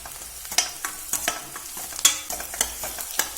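Crushed fennel seeds fry in hot oil alongside onions for an idli and dosa side dish, giving a steady sizzle cut by a dozen or so sharp stirring scrapes spaced irregularly, close and fairly loud, with no voices.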